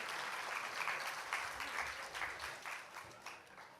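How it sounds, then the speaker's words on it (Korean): Congregation applauding during a Thanksgiving Sunday church service, a soft, steady patter of many hands clapping that fades slightly toward the end. "박수."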